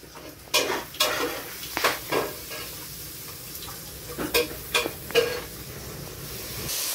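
Vegetable lo mein is stir-fried in a hot pan with soy sauce and seasoning: soft sizzling runs underneath a series of crisp scraping and tossing strokes, about ten in all, close and irregular, with no voices.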